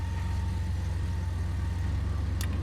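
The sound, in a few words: 2017 Lincoln Navigator 3.5 liter twin turbo V6 engine running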